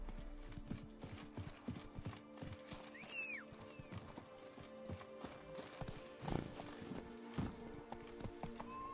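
Hooves of Roach, a horse in a video game, clip-clopping at a steady running rhythm throughout, with a brief whinny partway through over a background game score.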